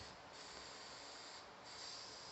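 A can of contact cement, held upside down, sprays in a workshop to clear its nozzle. It makes a faint, steady, breathy hiss that runs unbroken with slight surges in strength. No talking.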